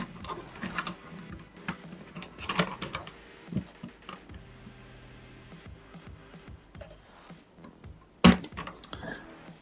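Keycaps are pried off and pressed back onto a budget mechanical wireless keyboard: scattered plastic clicks and rattles, quiet and close, with one sharp snap near the end.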